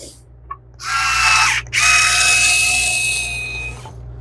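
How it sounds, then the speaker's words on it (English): A power drill drives screws into pilot holes while assembling golf club storage, two close whirring bursts with a brief stop between, loud and without speech. "what I'm going to be able to do is use the screws in the pilot holes in order to keep it together"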